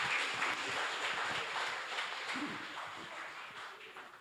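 A crowd at a Tamil devotional gathering about Murugan of Thiruchendur claps for a woman, a soft, distant and sustained patter of many hands with no one talking over it.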